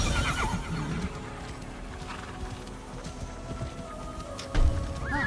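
A horse in the video game Immortals Fenyx Rising neighs in short whinnies at the start and again near the end, over hoof clops and ambient game sound, fairly close and moderately loud.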